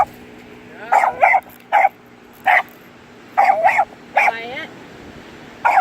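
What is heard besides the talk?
dogs barking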